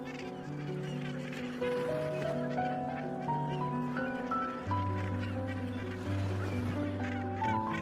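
Cape gannet breeding colony, with thousands of nests packed closely together, producing a dense, continuous chorus of loud honking and squawking calls that overlap without pause throughout.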